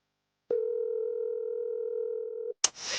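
A phone call goes unanswered as a single steady electronic tone holds for about two seconds, then cuts off sharply into a brief burst of noise.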